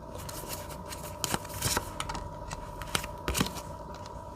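An oracle card drawn and laid down, crisp papery snaps and light taps at irregular intervals over a faint steady hum, with no talk.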